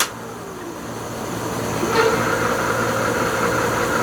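A 500 watt geared hub motor on an e-bike spins the wheel with a steady mechanical whine that swells slightly midway and holds at a moderate, close level, with no talking.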